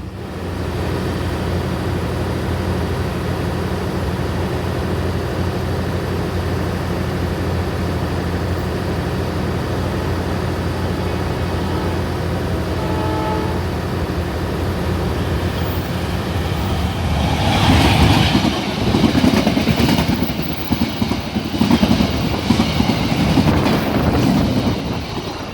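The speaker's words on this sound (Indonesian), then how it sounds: "Mari kita tunggu aja kereta yang akan melintas di stasiun Langen ini." A train rolls through Langen station in Indonesia, a steady rumble with rail noise that grows louder and harsher toward the end as it passes close by, with no talking.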